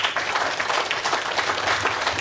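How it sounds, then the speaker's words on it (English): An audience at a dairy and beef farming event applauds a panel of farmers, a dense, even wash of clapping that carries steadily throughout. "a round of applause for our amazing panel"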